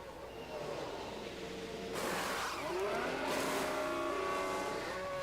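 A Ferrari race car in a racing video game whines through the pit lane with a rising engine note and faint tire squeal, joined by other cars, a continuous close mechanical drone with no talk.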